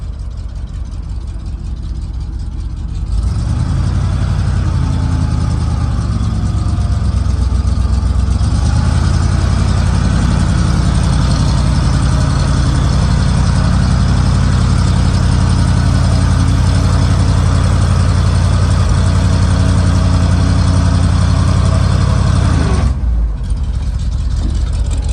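A 1972 Chevrolet truck engine idles with its PTO engaged, rising into a loud steady drone with a strained hydraulic whine as the dump box lifts, then dropping back to a quieter idle near the end.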